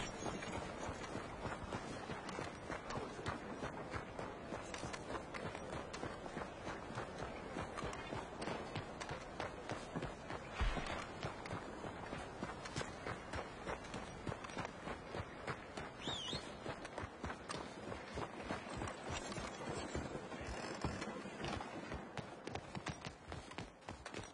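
Hooves pound in a quick, steady galloping rhythm as a horse runs in the video game Red Dead Redemption 2, fairly faint and continuous over a soft wind-like background.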